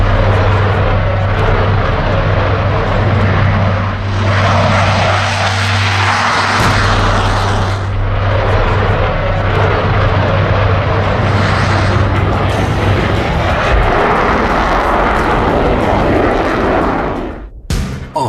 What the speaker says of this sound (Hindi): राफेल के साथ साथ सुखोई 30 और मिराज 2000 लड़ाकू विमान भी इस अभ्यास का अहम हिस्सा बने